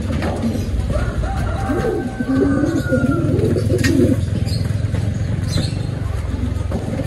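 Racing pigeons coo close by in a burst of soft, throaty calls, with a low background rumble that sounds like passing traffic.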